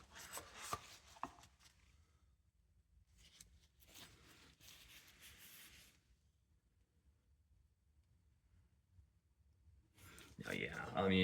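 Hand sanding of a Remington 722 rifle trigger guard with 120-grit paper: close, scratchy rasping strokes in several separate runs with quiet pauses between them.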